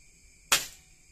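One sharp, short crack of a PCP air rifle shot fired through a Dr.Slug A10 barrel, close and fairly loud, quickly fading over a faint steady insect-like hum.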